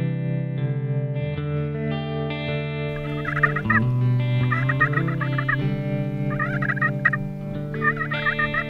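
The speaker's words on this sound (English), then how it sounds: "We've got a massive flock of Gould's turkeys heading up through these alligator junipers and ponderosa pines in this grassland." A large flock of Gould's turkeys gobbles among alligator junipers and ponderosa pines in an Arizona grassland, with overlapping harmonic calls that carry steadily throughout and louder bursts of gobbling that come and go.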